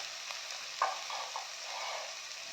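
Ginger paste hitting hot oil in a pan, a short steady hiss of frying with one small sputter near the start, close and moderately loud, no talking.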